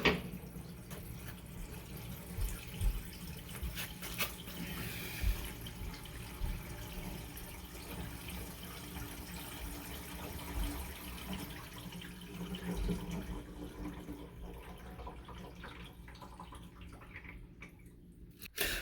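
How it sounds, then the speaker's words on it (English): Tap water runs steadily into a sink with the drain plugged, a faint continuous hiss and trickle heard alone at low level for the whole stretch, ending in a brief knock. "now I'm going to go ahead and fill the sink."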